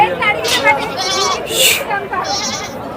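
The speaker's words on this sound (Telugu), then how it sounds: "మేకలు కూడా వచ్చున్నాయి" Goats bleating loudly and repeatedly at a crowded livestock market in Gudur, with several overlapping calls over a constant babble of people talking.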